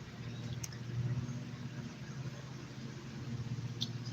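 A passing SUV on a road, a fairly faint low engine rumble and tire noise that swells and fades steadily, with no talking over it.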